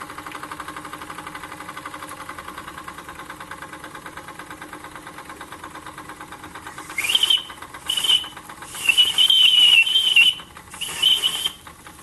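A small model steam engine with boiler, a RETROL SE-02 driving a generator, runs with a steady, even chuff, and a thin high whistle sounds in several short bursts near the end.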